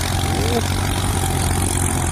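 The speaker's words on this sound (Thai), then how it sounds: "อันนี้เป็นรถไถของเขาเองนะนี่" Kubota L3608 tractor with a 22-inch disc plough, its diesel engine running at a steady low rumble close by, continuous and loud throughout, with someone talking over it.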